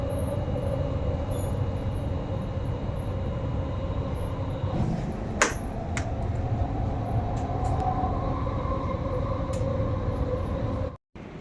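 Continuous loud rolling drone of a Doha Metro train travelling, heard from inside, with a brief squeal midway and an abrupt cutoff near the end.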